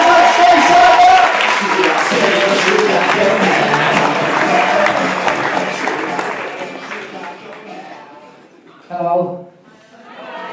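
A stand-up comedy crowd in a Manchester club applauds all around the room, a full burst of clapping that gradually thins and fades away before a single voice speaks briefly near the end.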